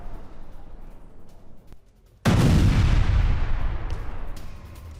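A missile strike on a residential area in Kharkiv: after a rumbling lull, a sudden loud explosion bursts out and its deep roar slowly decays over a few seconds.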